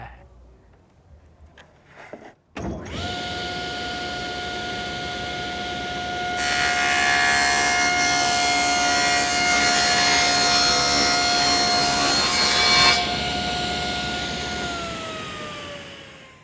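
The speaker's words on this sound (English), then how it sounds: "So we've just done a rip cut on the table saw" Table saw ripping through a wood board: the motor spins up with a sharp start, then a loud steady whine deepens into a harsher grinding roar while the blade cuts, easing off and winding down at the end.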